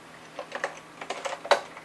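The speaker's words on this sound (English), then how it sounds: "typing test" Keys clack on a vintage Macintosh Plus keyboard, with light, uneven taps and a few sharper presses in quick irregular rhythm, heard close and alone.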